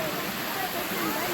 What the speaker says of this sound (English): if you Look at the waterfall up there